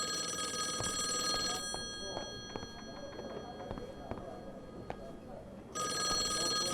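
A telephone bell rings in the video game Call of the Elder Gods, loud and continuous at the start, breaking off mid-clip, then resuming at the end, with other game sounds and voices between.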